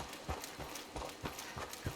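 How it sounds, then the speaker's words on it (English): Hooved footsteps of Brahmin livestock in Fallout 76 thud in a steady, soft clip-clop rhythm, roughly four steps per second, faint and distant under a noisy background. "there's plenty of Brahmin knocking about."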